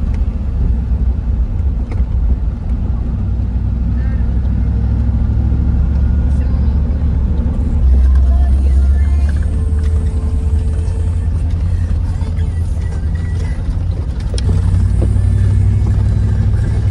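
A car on a drive gives a steady, loud low rumble of engine and road noise from inside, with voices at times.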